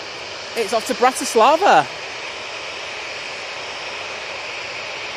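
Broad steady roar of a Ryanair airliner's jet engines at Manchester Airport, heard from a distance as a constant wash of noise, with someone talking briefly over it near the start.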